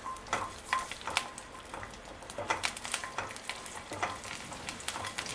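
Garlic cloves sauté in hot oil, a soft, quiet sizzle with a steady run of crackles and small pops while being stirred, heard alone without talk.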